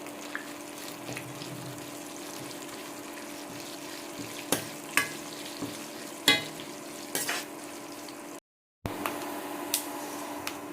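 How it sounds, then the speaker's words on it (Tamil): Vegetables and dried chillies sizzle and crackle softly in hot oil, with occasional sharp clinks of a utensil stirring the pan, then a brief silence. "போட்டு லைட்டாக வதக்கி எடுத்துக்குவோம்."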